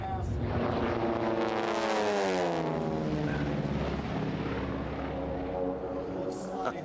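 T-6 class racing airplanes roar past low and close at the National Championship Air Races in Roswell, New Mexico. The loud, sustained propeller-engine drone drops in pitch as they sweep by.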